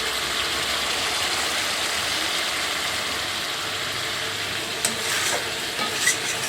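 Meat is stir-fried and cooked down in a pan, giving a steady, continuous sizzle, with a few clacking spatula scrapes against the pan toward the end.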